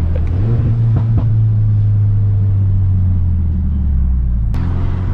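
Mercedes-AMG A35 saloon (V177) with a stage one tune accelerating hard from 30 to 60 mph, a loud, steady low engine drone rising in pitch before a sudden shift and drop near the end.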